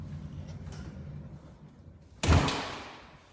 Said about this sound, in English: Let me close my garage door real quick.